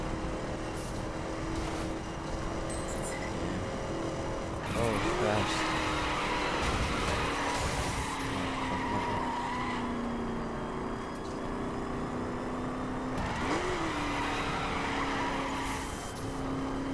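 Engine drone from a car drifting in The Crew racing game, with tire squeal and skid sweeps running steadily under a loud continuous motor tone, rising twice briefly as the car slides.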